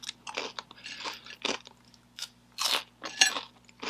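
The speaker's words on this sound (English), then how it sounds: "eating sweet potato fries" Crunchy sweet potato fries from an air fryer are chewed close to the mic, with irregular crisp bites and crunches spaced by short quiet gaps.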